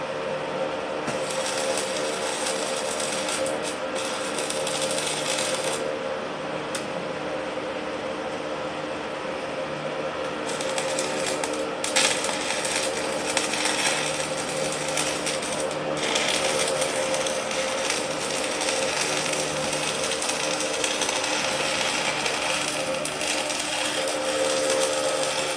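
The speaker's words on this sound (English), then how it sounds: "Alright, we're done with that weld." Welding a rear caster wheel back on produces a continuous buzzing, crackling arc with short breaks and restarts, loud and close, running for the whole stretch.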